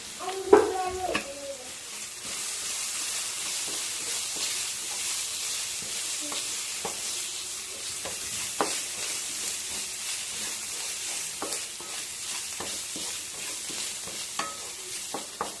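Turmeric sizzles and fries in a pan for mushroom fry, with a spoon scraping and stirring in scattered clicks over a steady close hiss, no talking.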